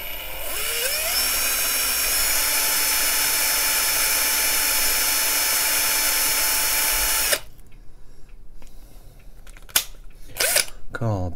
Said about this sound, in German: Und jetzt bohren wir da mal ein bisschen rein.